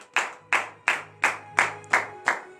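A church congregation at a morning prayer service claps in unison, seven sharp, evenly spaced group claps about every third of a second, each decaying briefly, with a low sustained tone humming underneath.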